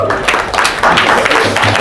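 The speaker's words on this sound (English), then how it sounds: "Clap yourselves up, ladies and gentlemen." An audience at a live bachelor's auction show claps loudly and densely, a short, close burst of applause lasting under two seconds.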